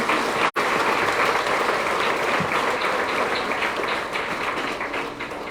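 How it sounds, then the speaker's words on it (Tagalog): A congregation gives a loud round of applause during the installation of a parish priest at St. Catherine church, thick sustained clapping from a large crowd after a brief dropout at the start, easing slightly near the end. "Isang masigabong palakpak."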